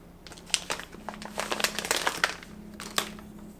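Plastic film crinkles and crackles close by as it is peeled off a part of an AquaTru countertop reverse osmosis water filter, in quick, uneven bursts over a faint steady hum.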